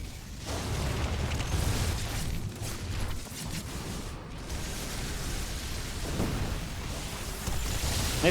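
Psionic storms crackle during a Protoss versus Zerg StarCraft 2 match, a dense, continuous roar of bursts and rumbling booms held at steady loudness throughout, with no talk over it.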